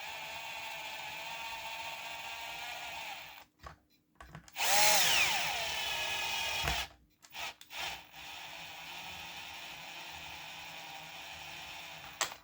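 A power driver runs M3 bolts into a 3D printed SMS Helgoland battleship model, with a steady whir from the motor and one louder, harder burst partway through, close up.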